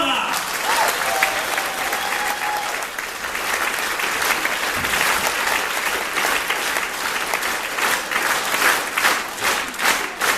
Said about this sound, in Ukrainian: пролунали оплески на честь справжньої українки